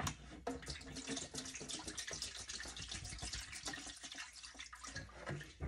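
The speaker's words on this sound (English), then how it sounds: "pour it into the bucket." Steady splashing of tankless water heater flush solution pouring into a bucket, continuous and fairly loud throughout, with a bright, bubbly texture and no voices.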